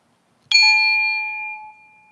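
A single bell struck once to open a breathing exercise, a sharp clear strike that rings on with a sustained tone and fades over about a second and a half, heard alone with no talk.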